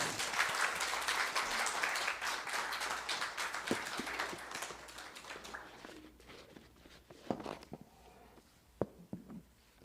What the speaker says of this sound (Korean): 우리 목사님 나오실 때 우리 큰 박수로 환영했으면 좋겠습니다.